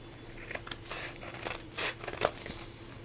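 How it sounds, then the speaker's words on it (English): Scissors snip through fabric along a curve near the heel, giving a few crisp, close cuts spaced unevenly over a soft background hiss, with no talking. "I'm going to cut with my scissors"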